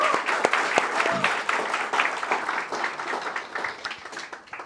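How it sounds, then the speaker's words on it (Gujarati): An indoor audience at a celebration event claps to welcome a speaker, a close, lively burst of applause that gradually thins and fades toward the end. "એમનું પણ તાળીઓના ગડગડાટથી આપણે હાર્દિક સ્વાગત કરીએ"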